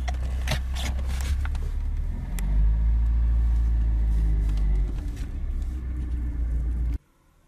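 A 1994 Tofaş Serçe's engine idles with a loud, deep rumble, rising briefly mid-way as if revved, then cutting off abruptly near the end.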